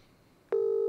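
A phone dials out to place a call: after half a second of near silence, a single loud, steady electronic tone starts abruptly and holds to the end.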